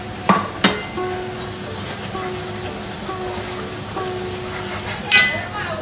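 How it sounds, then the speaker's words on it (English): A spoon stirring spice powders, masala and turmeric, into a pan on low heat: a couple of sharp clinks at the start, then quiet scraping and faint sizzle, with another metallic knock near the end. "Give it a good little stir."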